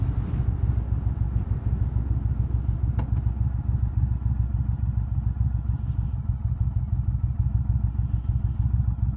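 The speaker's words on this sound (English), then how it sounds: "listening to a motorcycle running" A motorcycle engine runs steadily nearby, its low exhaust burble pulsing rhythmically with a brief sharp click partway through.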